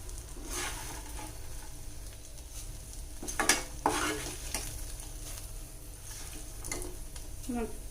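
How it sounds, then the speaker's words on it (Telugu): A spoon stirs hot tempering into tamarind pulihora rice in a home kitchen, with a soft sizzle and steady scraping against the pan, plus a few sharper clinks along the way. "మనం ఈ తాలింపు దీంట్లోకి వేసేస్తున్నాం."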